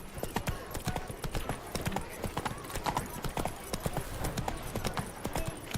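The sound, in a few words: horse galloping in video game The Witcher 3: Wild Hunt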